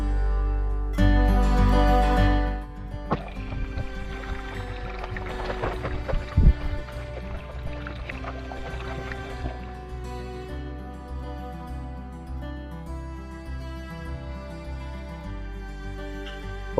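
Water gurgles and rushes through a newly replaced bathtub drain with stopper and overflow cap as the tub fills and is released, a loud surge early on settling into a steady, moderate flow.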